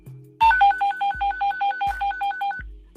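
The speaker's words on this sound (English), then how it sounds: "Oh, Aaron's ringing." A phone ringtone plays a fast, repeating two-note electronic trill in regular bursts, clear and fairly close, with low thumps at intervals underneath and no talking.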